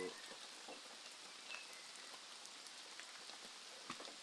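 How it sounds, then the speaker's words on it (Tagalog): Steady rain falls after a sudden downpour brought by low pressure on a mountainside, heard from shelter under a hut as a constant soft hiss with scattered drop patter throughout. "bigla na lang umulan mga idol dahil sa low pressure"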